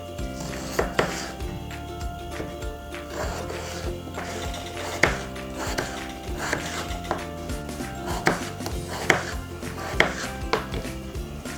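A knife chops potatoes on a board in a series of sharp, irregular knocks, fairly close, with a faint tonal background hum throughout.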